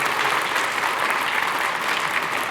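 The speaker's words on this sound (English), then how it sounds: "don't you think Sylvia needs a round of applause for the great work she's done?" Steady, dense applause from a large audience at a public science talk on fusion and clean energy, loud and continuous throughout with no pause or voices standing out.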